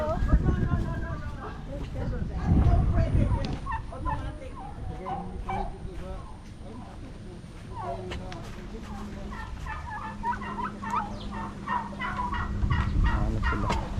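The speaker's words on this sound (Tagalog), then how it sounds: "Mga pabo, pero ibang kulay." Turkeys of varied colours gobble repeatedly at a nature sanctuary, with rapid burbling calls overlapping one another while people talk nearby.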